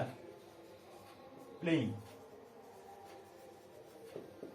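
A teacher writes on a classroom board, making one brief, bright squeaky stroke in the middle while a voice talks quietly throughout.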